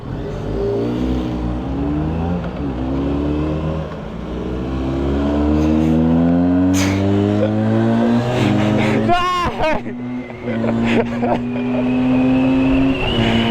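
A Harley-Davidson X500 motorcycle engine accelerates loudly through rising revs and gear changes, heard close from the rider's position with wind noise and a person speaking over it.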